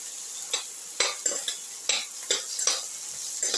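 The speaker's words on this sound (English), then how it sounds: "Put in the tomato pieces." Tomato pieces tossed into a hot pan and stirred, with a steady frying sizzle broken by repeated scraping, clattering stirs at an even rhythm, close up and without voices.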